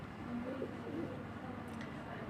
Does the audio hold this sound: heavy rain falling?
no